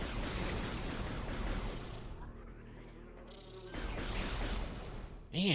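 Bees buzz in Metroid Prime Remastered with a droning insect hum over game ambience, which thins out midway before the buzzing returns, ending in a sharp burst.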